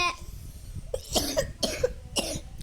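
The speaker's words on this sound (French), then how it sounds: "je sais pas comment j'ai réussi à faire la toux" Four short, sharp coughs spaced about half a second apart, close and fairly loud over a low background rumble.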